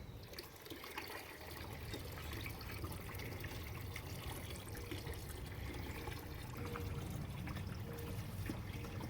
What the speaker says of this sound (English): So I'm siphoning it this way so I can gently add water as to not disturb the dirt that's in here in the pots.